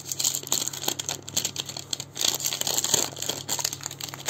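A pink Jaguar kite thread package is unboxed, with continuous close crinkling and tearing of plastic wrapping and a few sharper crunches throughout, with no talk.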